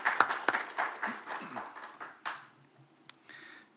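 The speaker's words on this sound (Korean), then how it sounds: "우리 박수로 함께 같이 영광 돌리겠습니다" A church congregation gives a short burst of clapping during a Sunday service, with scattered individual claps that thin out and fade to a few stray hits near the end.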